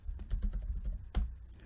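Typing on a computer keyboard at a terminal, a quick irregular run of soft key taps close by, with one firmer keystroke near the end, alone without talk.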